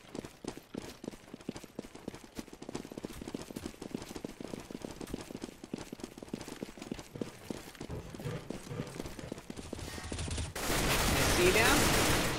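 Rapid gunfire from a Counter-Strike esports match on the Train map, with dense bursts of shots and clicking footsteps running steadily through the clip, closing in a louder wash of noise.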